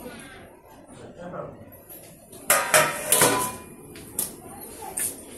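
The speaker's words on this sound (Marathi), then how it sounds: "मग आता ह्याला ना झाकण लावून शिजवून घेते 15-20 मिनिट बारीक गॅसवर." A metal lid is set onto a cooking pot of shengole on a low flame, making a couple of loud clattering knocks and a scrape midway, then lighter clinks, over a low background murmur.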